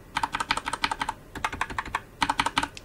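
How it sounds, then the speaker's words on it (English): Computer keyboard keys pressed in quick bursts of light clicks, with short pauses between runs, heard fairly faint and close with no talking. "show you the difference in sound between this key"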